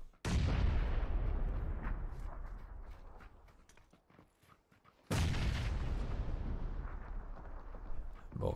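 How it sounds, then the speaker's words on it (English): Two heavy grenade blasts in a battle royale video game, each a sudden loud boom that rolls off slowly, with scattered gunshot cracks during the tail of the first. "they've heard all the shots, now they hear the nades as well"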